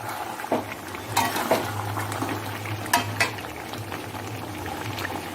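Mutton curry with potatoes and green chillies is sautéed in a pan, giving a steady close sizzle and frying hiss with several sharp scraping stirs and clinks of the utensil.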